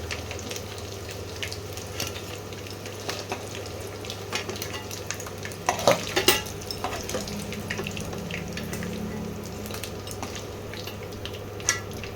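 Lamb pieces being fried in oil give a continuous crackling sizzle with some watery bubbling. A short burst of louder clatter comes midway, close by, and no one speaks.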